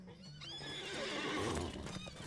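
A horse in Lord of the Rings Online neighs with a rising, shaky whinny over the clip-clop of hooves, close and fairly loud.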